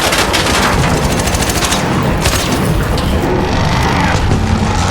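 Dense, rapid automatic gunfire in the Arc Raiders video game, loud continuous bursts of shots with booming impacts layered over each other for the whole stretch, no talking.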